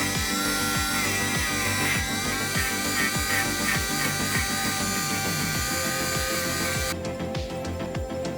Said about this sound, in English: there's that silicone carbide impregnated abrasive wheel. So I used it very lightly, but it got all these stubborn parts.